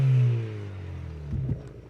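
A car is driven hard around a cone course at an autotest, also called gymkhana or autocross. Its engine note sounds close and loud, easing off as it holds a steady drone, with brief bursts of revving near the end.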